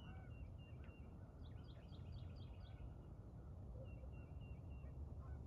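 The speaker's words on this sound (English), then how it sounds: "I hope you can see the birds on the water." Geese honking on the water outdoors, a short run of repeated calls at a distance over steady wind-like background noise, with another brief call near the end.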